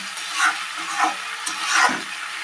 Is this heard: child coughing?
no